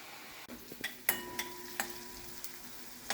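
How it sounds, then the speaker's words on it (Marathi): Onion softening in a pan for a Goan Saraswat pomfret dish, faint sizzling under a scattering of sharp metallic clinks and scrapes from a spoon stirring against the pan. "हा कांदा परतून घेतलाय. तो जरा नरम झालेला आहे."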